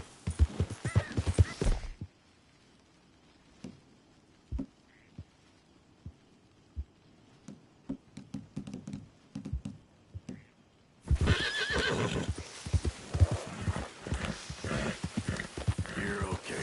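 A horse in Red Dead Redemption 2 gallops with loud, close hoofbeats and lets out whinnies. A quieter stretch of scattered single thuds comes before the full gallop returns, and a voice talks at times.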